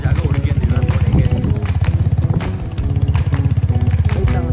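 A motorcycle ridden along an off-road path toward Butterfly Beach in North Goa, its engine thumping in a loud, steady rhythm up close, with brief bumps and rattles from the rough track.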